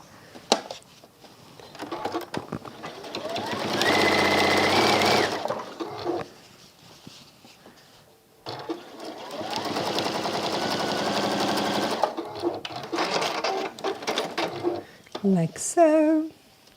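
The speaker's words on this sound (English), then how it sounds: "And we're going to sew that hem down." A sewing machine stitches down a fabric hem on a contrast caddy, running in two sustained bursts of several seconds each, loud and close, with short pauses and small clicks between runs.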